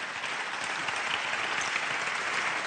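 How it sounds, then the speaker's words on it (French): Steady, dense applause from an audience at the Talents des Cités national awards ceremony, continuous and even throughout with no voices over it. "On peut applaudir."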